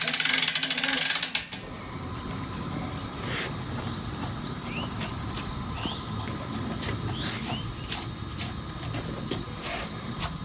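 A hand-cranked ratchet winch hoists a wild hog carcass, giving a few faint, spaced metallic clicks over a quiet outdoor background after a brief louder burst at the start.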